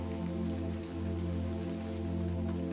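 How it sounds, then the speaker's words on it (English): Steady rain falls throughout, a dense, even patter on surfaces beneath a constant low hum, with no voices. "the rap of the rain and the timid rustle of leaves on branches"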